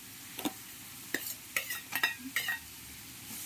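Garlic and finely chopped ginger stirred in a pan over low heat, heard as a handful of quick scraping and clinking spoon strokes with a light sizzle, close and fairly quiet.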